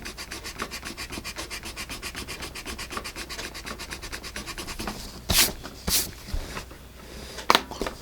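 Old Paper Mate eraser rubbing over fresh pencil graphite on paper, a close run of rapid scrubbing strokes followed by a few louder, sharper rubs and scrapes.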